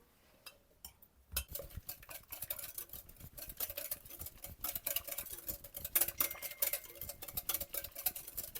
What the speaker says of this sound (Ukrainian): Охайно все треба вишкребати, ніч не треба лишати.